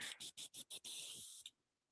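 Short bursts of airy hissing pulse in quick succession, then one longer steady hiss, like an airbrush spraying Tamiya paint in spurts before cutting off, while painting a Fanhome Millennium Falcon model.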